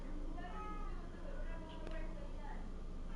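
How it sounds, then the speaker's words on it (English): A pet cat meows a few times indoors, soft and fairly faint over a steady background hum, with people talking nearby. "That's my cat."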